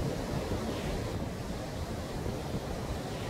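Ocean surf washing steadily onto Sunny Isles Beach in Florida, a continuous broadband roar of breaking waves with some wind rumble on the microphone, loud and unbroken throughout with no voices.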